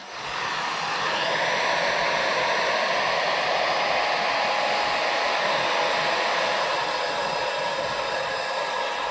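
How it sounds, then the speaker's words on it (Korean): A hair dryer drying cobalt chloride on a surface whirs continuously at full power, a steady loud blowing hum with no voices over it. "얘를 갖다가 그럼 내가 다시 드라이기로 한번 말려 볼게요."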